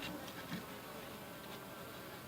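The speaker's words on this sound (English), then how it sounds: "there's a lot of bees in here" Bees fill an opened horizontal hive, a faint, continuous buzzing hum with low background rustle and no talking.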